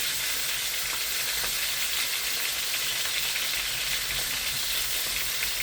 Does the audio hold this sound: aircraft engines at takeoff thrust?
no